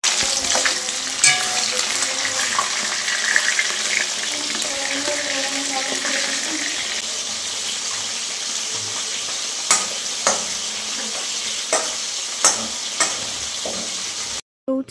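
Fish frying in a pan on a home stove, a steady broadband sizzle running throughout with occasional sharp pops and clinks of stirring, fairly close and with no talking, cutting off abruptly near the end.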